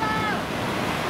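Sea waves breaking on a beach, a steady loud wash of surf with wind noise on the microphone, filling the whole short moment.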